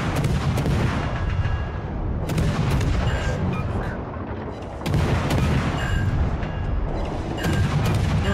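Heavy battleship guns of the Yamato booming in a naval video game, repeated loud salvos with rumbling tails and crashing impacts, dense and continuous.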